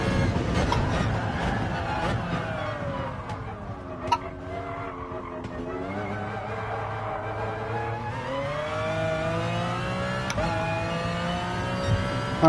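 Group 3 race cars lapping Tokyo Raceway in Gran Turismo Sport qualifying: a loud, continuous engine drone whose pitch sweeps up and down through gear changes, with tire squeal and a couple of sharp clicks.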